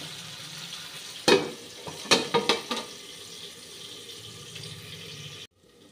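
Apple chutney simmering in a pan as the lid goes on: a steady soft bubbling sizzle, broken by a few close clattering knocks of the lid and utensil, then the sound cuts off abruptly.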